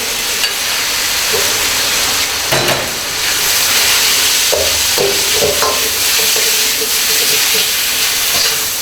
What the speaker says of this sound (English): Then add your beef.